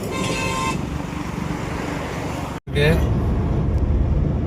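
Road traffic near Tindivanam during a Pongal holiday trip, heard from inside a moving vehicle: a steady engine and road rumble, with a car horn tooting near the start and a clip break before a louder passing vehicle.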